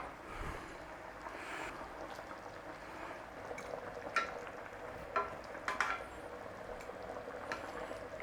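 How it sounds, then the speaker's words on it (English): Chicken meatballs in tomato sauce bubble at a low simmer in a pan, giving a soft, steady burble with scattered small pops and clinks. "So just bring that up to a little simmering boil"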